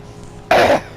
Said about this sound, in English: clearing my throat 7 times during a commentary is very far from professional